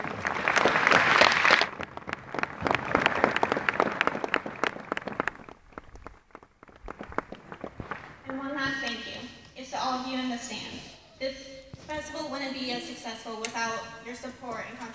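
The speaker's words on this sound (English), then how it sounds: "Can we just get one more applause for all their amazing people?" Audience applause honouring seniors at a 50-year celebration, a loud burst of clapping at the start that thins into scattered claps, followed by voices speaking and singing.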